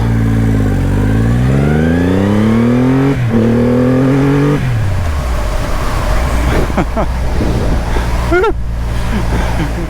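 A Triumph Rocket 3R motorcycle accelerating hard up a slightly uphill on-ramp, the engine note climbing through several rising gear pulls with shifts in between, very loud and close, followed by a steady roaring drone with wind noise.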